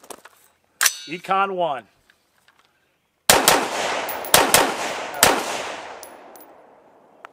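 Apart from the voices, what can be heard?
rifle gunshots during recoil test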